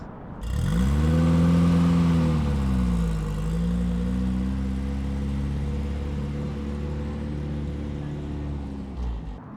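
A Volkswagen Beetle passes on an Arizona road, its engine note loud and steady, swelling as it nears and then holding a sustained mid-pitched hum for several seconds before fading at the end.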